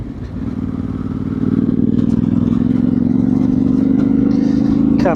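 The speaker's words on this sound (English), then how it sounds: "it's a big bike to be riding off-road" A Yamaha Tenere 700 motorcycle ridden off-road in Scotland: a steady, close engine drone that builds over the first two seconds and then holds at a loud, even pitch, with brief clatter near the end.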